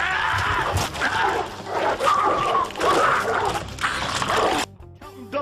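Hungry dogs barking and whimpering in close, overlapping bursts, a rough agitated chorus that cuts off abruptly near the end.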